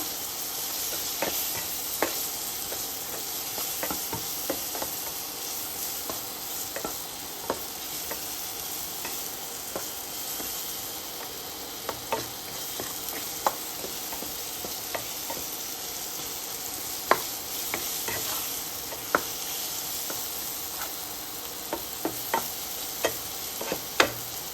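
Paneer and potato pieces sizzle steadily in a pan with chilli powder, with frequent light scrapes and knocks from a spatula stirring them. No voices are heard.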